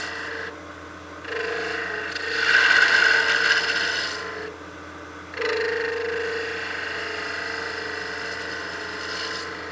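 A skew chisel cuts a cove in a small wooden mushroom ornament spinning on a lathe, giving a raspy scraping hiss that swells in two passes with a brief pause between them.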